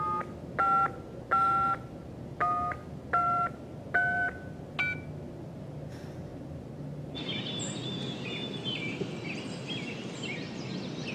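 Seven short telephone keypad tones dialed in quick succession, evenly spaced and clear, followed by a sustained ringing or line tone with faint chirping in the background.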